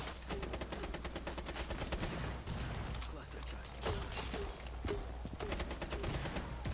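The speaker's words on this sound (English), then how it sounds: "Someone's definitely shooting." Bursts of automatic gunfire in the video game Rainbow Six Siege during a bank team deathmatch, rapid repeated shots and clatter fairly close, with a voice talking over them.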